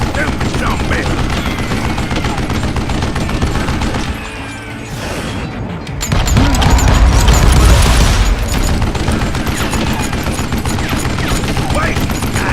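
Rapid gunfire in the video game Call of Juarez Gunslinger, dense repeated shots that pause briefly and then resume louder with heavy booms, a voice talking over them.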